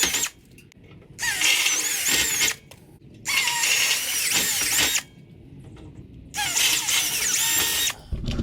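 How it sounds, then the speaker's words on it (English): A power drill bores pilot holes in the steel of a Harbor Freight metal brake, three loud whining bursts of about a second each separated by short pauses. "Now we'll drill each of these with a pilot hole and then drill it to final size"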